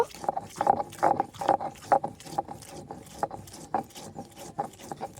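Mustard seeds, poppy seeds and green chillies ground by hand on a stone slab with a stone pestle, a series of rhythmic scraping and knocking strokes, close and fairly loud, with no talking.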